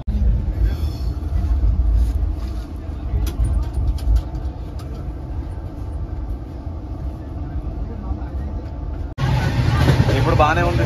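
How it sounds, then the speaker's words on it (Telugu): Loud low rumble of a moving passenger train, heard from inside with rhythmic clatter and a sharp jump in noise near the end; people talk over it. "ట్రైన్ స్పీడ్ బాగానే ఉంది"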